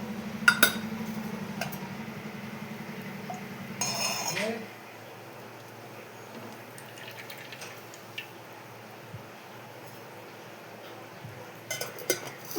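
A cooking pot is set on a stove for heating oil, giving a few metallic clinks and clanks near the start and again near the end, with a low hum and faint kitchen noise in between.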